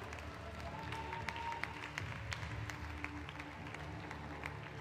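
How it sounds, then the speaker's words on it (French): A crowd applauds at the podium ceremony of the Urban Trail 2022 running race; steady, moderately quiet clapping with scattered sharp claps runs through the whole stretch. "on vous accompagne par des applaudissements de la part du public"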